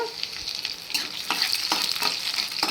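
Cabbage fry tempering crackles and sizzles in hot oil, a close, continuous bright hiss dotted with sharp pops and spatters over a few seconds, no voices.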